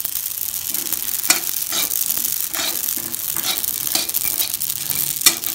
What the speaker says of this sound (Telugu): లో ఫ్లేమ్ మీద కొంచెం సేపు వేయించుకోండి